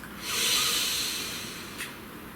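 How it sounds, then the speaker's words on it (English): One deep breath taken close to the microphone: a long, airy inhale swelling for about a second, followed by a brief softer puff of exhaled air, with no talking. "Please take a nice deep breath."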